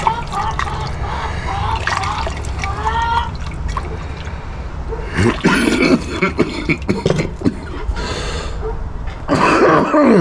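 A few rough coughs break through a busy wash of splashing, trickling water from gold recovery washing, the coughs coming in short bursts toward the end.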